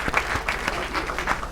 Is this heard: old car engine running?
no